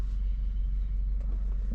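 Steady low engine and road rumble inside a car with a COBB Accessport installed, cruising with the windows up and the radio off, continuous and droning throughout with no talking.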